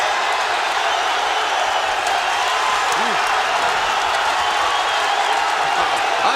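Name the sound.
crowd roaring at boxing match, Videotron Center, Quebec City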